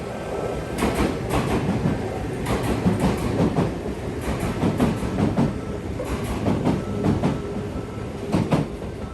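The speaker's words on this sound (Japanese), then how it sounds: "やってきたのは桜ライナーです。" A Kintetsu Sakura Liner express train passes through Domyoji station without stopping, its wheels clattering in a fast rhythmic clickety-clack over the rail joints, loud and continuous throughout, with no voices.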